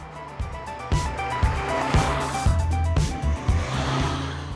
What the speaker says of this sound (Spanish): El sonido del motor gasolina es justo lo que buscas en un coche así.